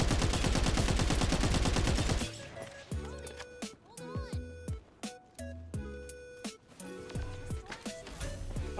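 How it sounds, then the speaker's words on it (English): Gunfire in the Farlight 84 battle royale game, opening with a dense, loud burst of rapid automatic shots, then scattered single and clustered shots among game effects and tonal interface sounds. "Things are shooting me in the back."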